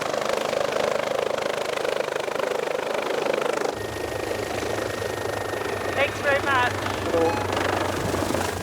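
A Westpac rescue helicopter in flight sends a steady, loud rotor and engine drone through the whole stretch, with a voice speaking over it.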